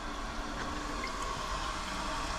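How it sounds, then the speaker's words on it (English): Water steadily refilling the tank of a newly installed toilet, a constant close hiss and trickle holding at an even level throughout. "Nice toilet, it fills up fast."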